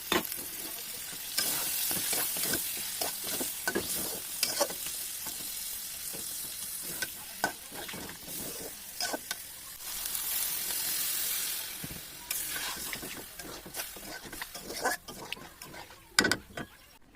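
Small cut puti fish sizzle in hot oil in a frying pan, a continuous bright hiss with scattered crackles and occasional utensil knocks and scrapes, fairly close and without talk.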